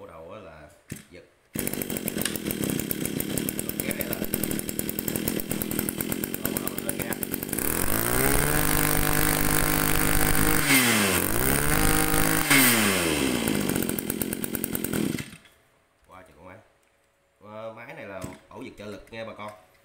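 A used Japanese grass cutter's small two-stroke engine is pull-started and buzzes loudly up close, revving a few times before cutting off, followed by brief talk.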